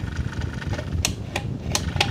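An electric fan runs on speed 3 after its rotor shaft bushing was replaced, a steady whirring drone broken by a few sharp clicking ticks, close and fairly loud with no talking.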